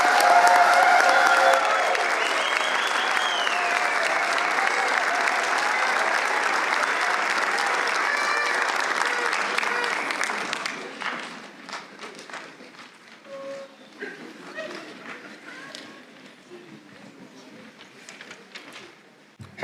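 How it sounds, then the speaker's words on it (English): A large audience at an Ivy Day graduation ceremony gives a long round of applause for the graduates, loud and dense for about ten seconds before thinning to scattered claps and murmuring. "let's have one last round of applause and congratulate these graduates"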